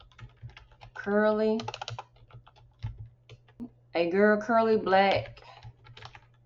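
Computer keyboard keys tapped in quick bursts as a text prompt is entered, close and fairly quiet, under a voice speaking.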